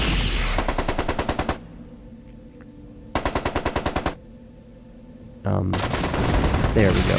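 Rapid bursts of machine-gun style weapons fire from battling mechs in the video game MechCommander 2, two short rattling volleys separated by quiet, then a heavier blast, with a brief spoken remark.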